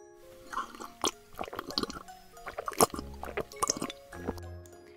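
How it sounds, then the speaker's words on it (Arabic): Tap water runs and drips into a glass in a cartoon setting, irregular splashy bursts and trickles of liquid with bright plinks, fairly quiet and close, with a low tone under it. "هروح املى الكوباية من الحنفية"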